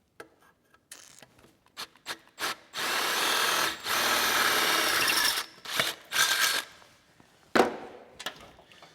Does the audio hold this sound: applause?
no